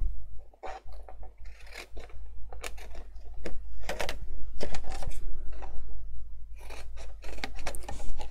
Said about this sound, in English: So I'm going to grab my scissors again